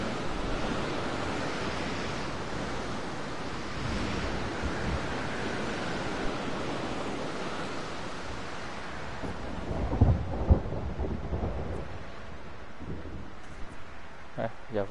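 A thunderstorm in the video game Jurassic World Evolution 2: a steady roar of rain and wind with rumbling thunder that swells to a louder crack partway through.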